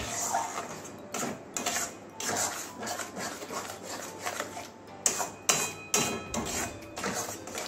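Mango filling with sugar being stirred in a pan, a spoon scraping and tapping the metal in uneven strokes, with a few sharper knocks near the end, close and fairly quiet.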